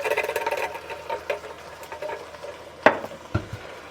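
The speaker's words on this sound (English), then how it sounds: "Going to give that a nice stir real quick." Corn and crushed tomatoes are stirred in a soup pot for chicken tortilla soup, giving soft scraping swishes in uneven strokes, close by, with a sharper clank of utensil against pot near the end.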